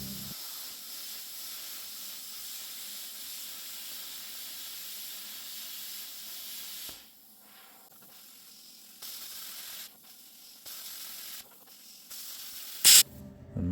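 A plasma cutter slices steel for a copper ingot mould, giving a steady, loud rushing air hiss that drops out partway and then comes in short broken bursts as the air supply falters, ending in a sharp pop.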